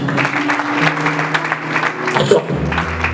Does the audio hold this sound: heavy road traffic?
no